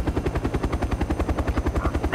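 A military helicopter in the ArmA 3 game, in a Vietnam-era scenario, thuds with steady, rapid rotor chop at close range, the beating rhythm continuing evenly throughout with no speech.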